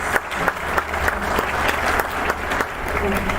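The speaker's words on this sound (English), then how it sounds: "So if you could give them a round of applause for their efforts" Audience at a school band concert applauds steadily, a dense, continuous wash of clapping with some individual claps standing out and murmured voices mixed underneath.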